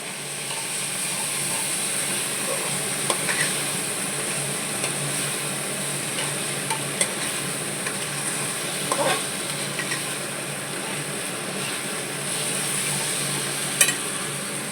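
Gobindobhog rice, washed and dried, sizzling in a pan after a little water is added, a steady soft hiss with occasional stirring scrapes and small pops throughout.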